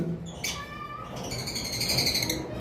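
A small albino red-eyed Fischer's lovebird gives a few high, thin chirps and short whistled calls, fairly close, with a quiet background and no talking.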